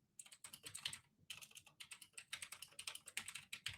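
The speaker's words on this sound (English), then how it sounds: "I say thank you if you like my clacky keyboard right now" Fast, clacky typing on a keyboard, rapid bursts of sharp keystrokes with a brief pause near the start, close and alone.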